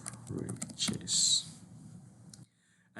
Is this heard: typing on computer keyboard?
yes